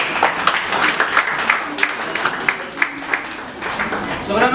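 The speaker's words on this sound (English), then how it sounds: "With a round of applause." Scattered applause at a school entrepreneurship summit as a guest is welcomed, with distinct individual claps standing out over a crowd murmur and some talk nearby.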